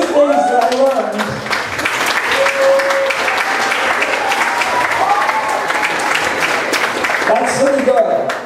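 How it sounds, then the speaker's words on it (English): Audience clapping at a talk about Camp Veritas fills the room steadily throughout, mixed with voices talking over the applause. "You guys gave me a clap, thank you."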